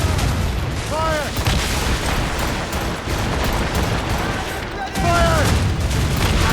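Ship cannons in Assassin's Creed Rogue fire in a heavy, continuous barrage of booms and rumbling blasts, with shouted voices over the battle.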